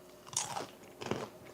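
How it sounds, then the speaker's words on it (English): Crunching on Snyder's sourdough nibbler pretzels, two close bursts of crisp chewing and biting with a short pause between them, no talking. "Hear that crunch?"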